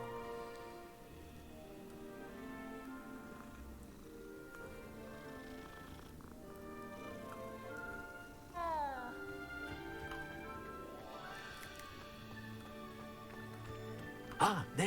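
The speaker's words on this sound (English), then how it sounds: "That looks like a new cat." A cat in the Hogwarts Legacy video game gives a few soft meows, with a short rising meow near the middle, over quiet game ambience and a faint musical background.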